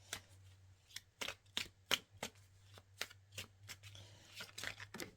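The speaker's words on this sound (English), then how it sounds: "dropping cards" Tarot cards are shuffled by hand in a quiet room, a string of crisp, close riffles and slaps arriving in uneven bursts, with a few cards dropping.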